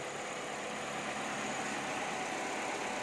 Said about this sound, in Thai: ห้องเครื่องเดิมๆครับ ผมลูกค้า เครื่องเดินนิ่งๆเลยครับ